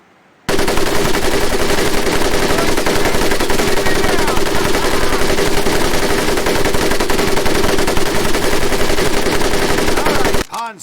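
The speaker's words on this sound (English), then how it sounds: "M1919A430 caliber machine gun" Continuous roaring burst of an M1919A4 .30 caliber machine gun in the war game Medal of Honor Pacific Assault, loud and close, sustained for about ten seconds before cutting off abruptly.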